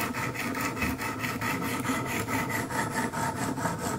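A Kershaw Skyline knife is drawn along 200 grit Wicked Edge sharpening stones, a loud, gritty rasping in steady repeated strokes, close up and with no talking.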